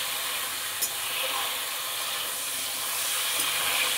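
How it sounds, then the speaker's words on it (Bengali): Prawns frying in a wok for prawn pulao, giving a steady, close hiss of oil with a couple of brief sharp spits, continuous throughout with no talking. "কড়াইতে দিয়ে দিলাম, চিংড়ি মাছটা একটুখানি ভেজে তুলে রেখে দেবো"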